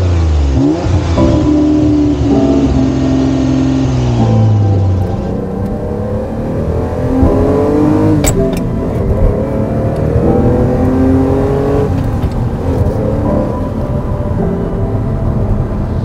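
A car accelerates hard while being driven out of town in Monaco, the engine note climbing through rising gear pulls, dropping at shifts and climbing again, loud and close throughout with no talk.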